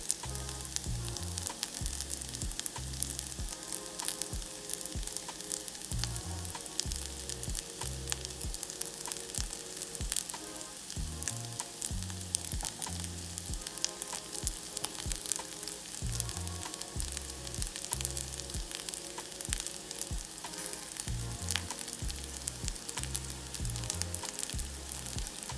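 Tofu frying in a pan gives a steady, close sizzle that runs the whole way through, with soft stirring and scraping on top and no talk.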